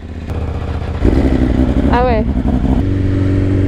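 A KTM 790 motorcycle engine runs close by, its low steady throb rising and growing louder partway through and holding there, with a voice briefly speaking over it.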